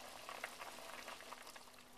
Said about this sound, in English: the soup is boiling